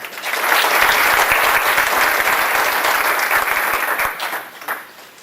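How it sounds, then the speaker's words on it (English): A large crowd applauds loudly and steadily for several seconds, then the clapping thins out and fades toward the end. "Please give him a round of applause"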